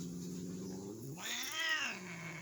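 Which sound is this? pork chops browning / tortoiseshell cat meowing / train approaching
tortoiseshell cat meowing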